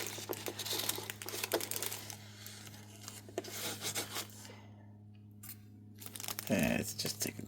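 Crinkly plastic packaging is pulled and unwrapped from a Hot Toys deluxe Wolverine action figure's arms, with close, continuous rustling and crackling over a steady low hum.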